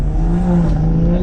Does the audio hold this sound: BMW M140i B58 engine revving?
yes